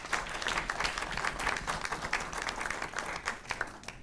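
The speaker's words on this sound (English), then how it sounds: "Let's give another round of applause." Audience applause after an evening presentation on a prostate cancer treatment, a moderately distant, steady round of many people clapping, with individual claps poking through and no speech.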